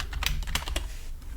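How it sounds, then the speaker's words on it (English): A burst of quick, close keystrokes on a computer keyboard as a group name is typed into a Windows Active Directory dialog, with irregular clicks followed by a brief pause. "we can type in the name for the group"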